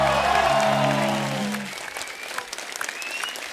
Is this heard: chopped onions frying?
no